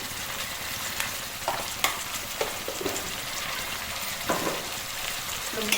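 Mushroom and egg curry with added turmeric stirred in a sizzling pan, continuous close frying hiss with repeated light scrapes and clicks of the spoon, no voices.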